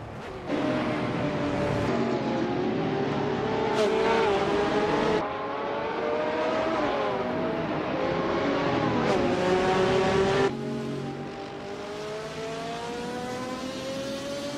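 GTS race cars, closely matched in speed, race through the tight corners of the Baskerville track. Loud, continuous engines whine and shift pitch as several cars overlap in steady revving, with no talking.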